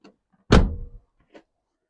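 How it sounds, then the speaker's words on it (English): The passenger door of a Ford Fiesta fitted with a wide-arch wing opens once with a short, close clunk, surrounded by near silence. "when I open the passenger door, you'll see how close the door gets to the wing"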